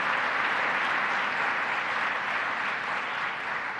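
Audience at a Central New York event applauds for the Onondaga County leader, a thick, even burst of clapping that holds steady and loud for a few seconds.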